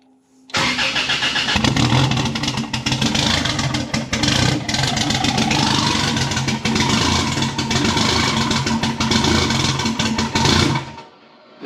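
A turbocharged 3RZ engine in a Toyota Hilux cranks and catches, then runs loud and rough for about ten seconds before cutting off abruptly.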